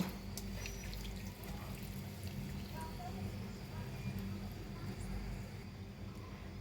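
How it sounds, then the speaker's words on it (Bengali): Water is poured into marinated duck meat in a cooking pot, a soft, steady splash and trickle heard faintly and continuously with no talk. "দুই কাপ পানি দিয়েছি"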